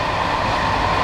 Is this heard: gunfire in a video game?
no